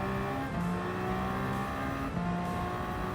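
A sports car's engine in Gran Turismo 7 roars steadily with a continuous, loud, rising-and-falling rev drone, no talk over it.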